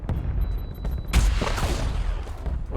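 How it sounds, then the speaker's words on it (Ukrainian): A sharp, loud sniper rifle shot cracks out amid continuous noisy battle ambience in Warzone, with scattered distant shots and rumbling in the background. "От снайпер стріляє знизу."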